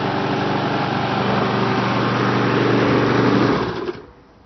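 An Efco lawnmower with freshly sharpened blades runs at a steady, loud engine drone close by, then cuts out and fades near the end.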